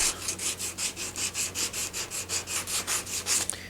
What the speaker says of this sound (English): I'm just using 80 grit here still, just because I'm going to take off some of these ridges